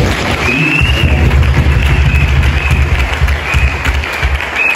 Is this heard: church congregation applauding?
yes